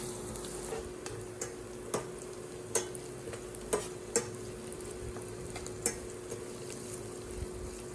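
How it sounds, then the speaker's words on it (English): Aromatics sizzle steadily in a hot pan while a utensil stirs them, with quiet, continuous frying and sporadic scraping clicks for a noodle dish. "The moment these hit the hot pan, you will notice a burst of fragrance. Stir quickly for 30 to 40 seconds"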